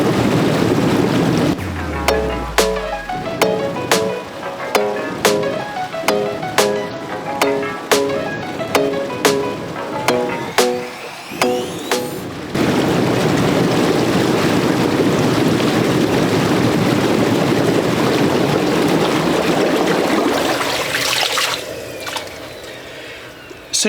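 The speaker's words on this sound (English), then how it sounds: "now I'm just going to turn the bubbler on" A bubbler churns cold water to wash sunflower shoots. A steady, rushing, gurgling wash of water runs for about ten seconds, after an earlier stretch of rhythmic tapping and tonal plinks.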